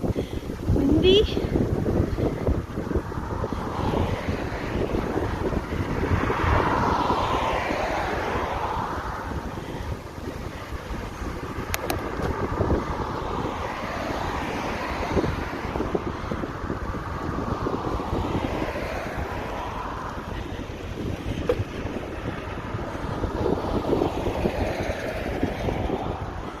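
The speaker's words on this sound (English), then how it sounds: "Windy." Heavy wind buffets the microphone of a rider cycling home from work, a loud continuous roaring rumble that never lets up, with a voice speaking now and then underneath.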